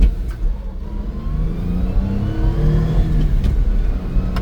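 Suzuki Carry mini truck engine pulling in third gear, a close, loud mid-pitched drone that rises steadily in pitch as the small truck accelerates.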